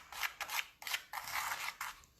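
Glitter being stirred with a popsicle stick on paper, a series of close, raspy scraping strokes in uneven bursts, each a fraction of a second, with short gaps between them.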